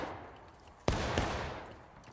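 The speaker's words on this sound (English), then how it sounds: "Keep firing, boys, keep firing" A musket volley in a Civil War game battle, one sharp, heavy crack followed closely by a second shot, with a long rolling echo trailing off against a quiet background.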